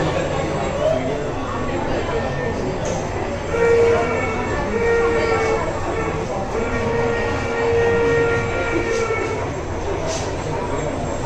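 A toy train carries food around a restaurant in Kakinada, rumbling steadily with repeated horn-like toots over a busy room where children and people talk in the background.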